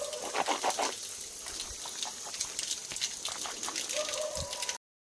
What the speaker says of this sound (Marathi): इकडे नळ चालू आहे तो